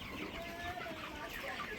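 Chickens on a raised slatted-floor farm cluck softly and continuously nearby, several birds murmuring together in a quiet, busy chatter.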